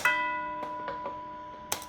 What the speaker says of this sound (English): I got some like a bell.